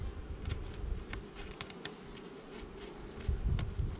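Honeybees hum steadily around an open beehive while bee escapes are put on, a dense close buzzing that swells and fades with individual bees passing near, with no voices.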